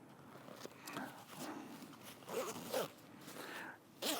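Zipper pulls on tactical MOLLE gear pouches of a search and rescue chest harness are handled, giving faint close rustles and small rhythmic zipping rasps with a couple of light ticks.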